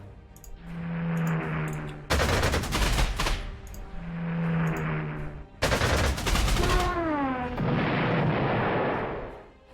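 Gunfire rattles in the WWII strategy game Panzer Corps 2: two loud bursts of rapid automatic shots, each lasting about a second. Between them a steady mechanical drone, with whistling and descending tones, hums under the shooting.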